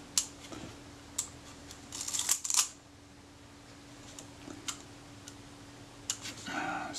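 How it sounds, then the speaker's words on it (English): Kodak Retina IIIC film camera with a film advance lever problem, giving a series of sharp mechanical clicks and a brief ratcheting burst of the film advance and shutter release, close and crisp against a quiet room. "I've just heard that release the film advance before the shutter fired"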